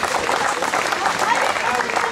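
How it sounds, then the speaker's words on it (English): An audience at a panel discussion gives a round of applause, a dense, even wash of clapping that stays loud and steady from start to finish. "Give them both a round of applause."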